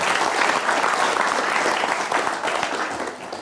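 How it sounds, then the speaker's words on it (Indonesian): Lively applause from a studio audience for a Karang Taruna village youth group on a televised pantun show, dense clapping that tapers off near the end. "Tepuk tangan untuk Karang Taruna ya"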